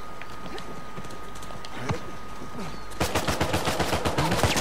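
Gunfire in an Uncharted 4 multiplayer match: scattered distant shots at first, then a rapid, loud burst of repeated shots near the end.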